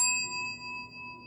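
A struck meditation bell rings out alone with a clear, steady, sustained tone that holds without fading across the moment.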